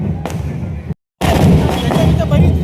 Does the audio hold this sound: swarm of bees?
no